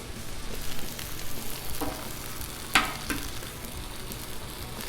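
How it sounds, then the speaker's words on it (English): An egg fries on a hot Blackstone griddle, giving a steady close sizzle with a brief sharp crackle partway through, with no voices. "I got the griddle pretty hot right now. So what I'm gonna do, I'm just gonna crack the egg"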